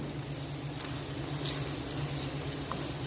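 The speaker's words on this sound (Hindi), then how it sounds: "फिर डालेंगे इसमें थोड़ा सा पानी और फिर 1 टेबलस्पून शुगर" Water pours steadily into a pan of sweet and sour chicken sauce being cooked on the stove, a continuous soft rushing splash over a low background hum.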